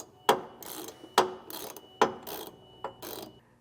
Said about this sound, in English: I can use the socket and wrench to get it back into place.